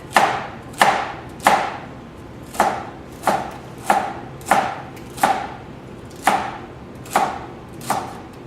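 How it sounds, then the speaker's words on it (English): Celery stalks chopped with a big sharp knife on a cutting board, about a dozen crisp, evenly spaced blade strikes, close and clear with no talking. "So I'm going to cut it lengthwise and then chop it."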